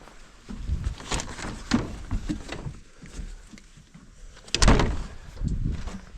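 A door opening near a house during a storm damage check, with creaks, rattles and a louder thud partway through, over dogs moving and quiet background noise.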